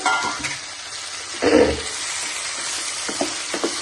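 Green chillies fry in a pan with a steady crackling sizzle and occasional stirring scrapes, loudest in a brief burst midway, heard close with no talk.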